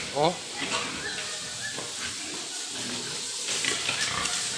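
Sows and piglets grunt and squeal while being bathed amid a hissing spray of running water, with scattered voices and farm noise throughout.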